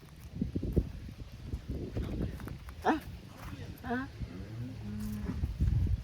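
A cow moos a few times at a cattle sale in Tamil Nadu, drawn-out low calls rising over busy crowd chatter and someone talking throughout.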